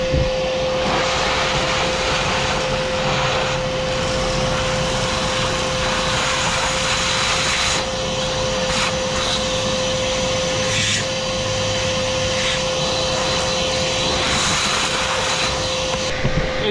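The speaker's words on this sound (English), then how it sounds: "It seems to be doing the pine needles pretty okay." A Bauer 14-gallon 6hp shop vacuum roars steadily and loudly while sucking up pine needles, a constant motor whine with a fixed high tone and brief shifts in airflow pitch as debris passes through.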